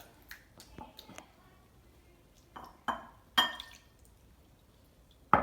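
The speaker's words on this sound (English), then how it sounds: "For the Seder, we pour the water twice over each hand" Water poured over hands for Seder handwashing, several separate splashes and drips onto a basin, with faint clinks between pours, close and fairly quiet.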